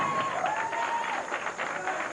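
A crowd at a televised bowling match cheers and claps, a busy wash of applause and voices with a faint whistle-like tone sliding through, moderately loud and continuous.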